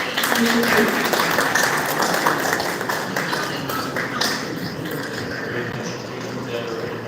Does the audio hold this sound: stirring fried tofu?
no